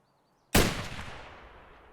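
A single loud gunshot fired in the video game Escape from Tarkov, a sharp near blast followed by a long decaying echo, with no voices.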